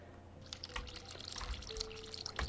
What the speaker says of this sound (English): Let's run the hot water.